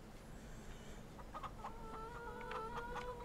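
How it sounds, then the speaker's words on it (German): A flock of 60 hens and a rooster on a farm in Farming Simulator 22 clucks in a steady run of short, mid-pitched calls against a constant low background hum, with no talking. "hier wird schon gegackert. 61 Hühner, also 60 Hennen und ein Hahn."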